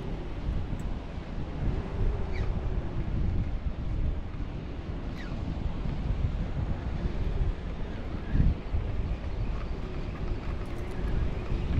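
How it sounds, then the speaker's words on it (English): Constant wind roars and buffets the microphone throughout at the Cape Cod Canal while fishing, a dense rumbling noise with occasional gusts and no talking. "Obviously it's super windy today"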